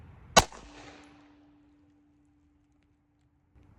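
A single sharp crack from a suppressed 5.56 rifle rings out early, its supersonic snap decaying into a short echoing tail, followed by near silence with a faint thump at the very end.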